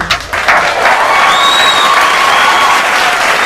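Loud, sustained audience applause fills the room, a dense steady clatter of clapping hands welcoming a quarreling husband-and-wife couple onto a comedy stage, with a faint crowd murmur beneath.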